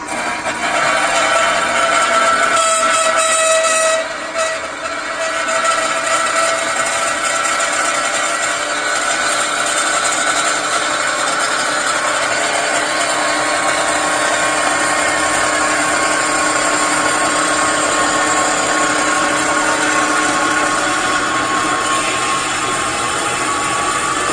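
A WEN benchtop portable horizontal bandsaw cuts through thin metal at about half speed, its blade and motor giving a steady, loud whine and grind that holds unbroken throughout.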